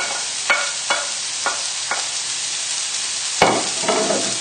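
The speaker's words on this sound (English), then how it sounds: "And give everything a good stir together." Garlic and rosemary frying in a hot pan while being stirred, a steady sizzle broken by regular scraping strokes and a few sharper knocks of the utensil.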